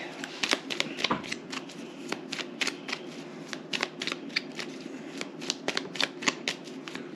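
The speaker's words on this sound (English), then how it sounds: "Making sure they're shuffled good." Playing cards are shuffled at home with repeated riffles and soft flapping snaps in an irregular rhythm, close but fairly quiet, over a faint background murmur.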